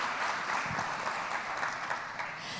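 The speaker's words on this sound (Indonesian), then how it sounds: "Boleh kita berikan tepuk tangan Bapak Ibu sekalian" Audience applause fills a hall at an Indonesian green energy transition summit, welcoming a panel of five speakers: steady, dense clapping from a large crowd that holds evenly throughout.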